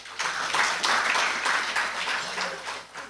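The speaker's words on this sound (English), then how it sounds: "Another round of applause for the SG." Audience applause at an East African business council gathering with the EAC Secretary General, a dense, steady clapping from a crowd sustained for several seconds, loud and close.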